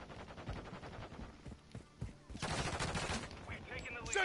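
Gunfire in the video game Call of Duty MW3, with rapid bursts of shots in close succession. It starts as a spaced, moderate rattle and swells into a loud, dense volley near the end, with a voice briefly talking over it.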